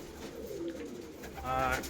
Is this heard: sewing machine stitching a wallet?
no